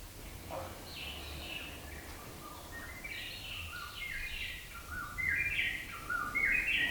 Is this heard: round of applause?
no